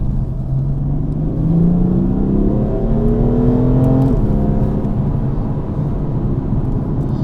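A tuned 520 bhp BMW M4 accelerates hard, its loud engine note climbing steadily in pitch as it pulls through the revs. It then settles into a roaring rumble, with no voices.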